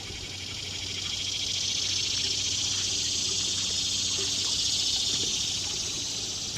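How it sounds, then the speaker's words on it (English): Summer woodland insects chirp in a dense, continuous high-pitched drone, steady and fairly loud throughout, with no speech. "It's amazing how loud the insects can be in the woods in the summer."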